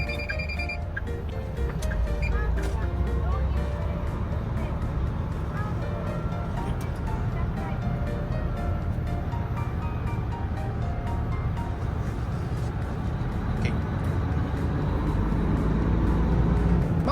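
Inside the cab of a Hino Profia large truck pulling away on a driving-test practice course, a continuous low engine and road rumble drones steadily, with faint ticking and rattles throughout.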